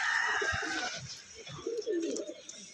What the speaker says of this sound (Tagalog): Okay, ito na mga ibon, mga idol.